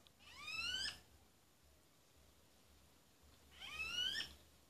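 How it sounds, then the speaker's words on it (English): Two bright, chirpy calls from a pet bird in rural Jamaica, with rising whistled notes, separated by a few seconds of quiet; fairly close and clear. "That's my bird making those sounds."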